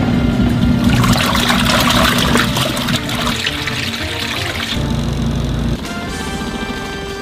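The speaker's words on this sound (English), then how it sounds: "and let the washer fill." A portable washing machine set beside a kitchen sink fills with water from a hose, a steady loud rush of running water that continues throughout and shifts tone slightly near the end, with no talking.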